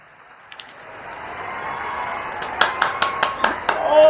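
At a political speech, an audience begins clapping after a few scattered early claps and rising murmur, then several sharp, irregular claps ring out over growing crowd noise.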